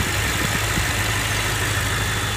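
A 2016 BMW M5 Competition engine idling close by, a steady low rumble with a faint uneven pulse, continuous and fairly loud, no voices.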